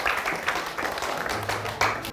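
A crowd claps for students from an SMK vocational school in a dense, continuous burst of applause, with faint voices mixed in underneath.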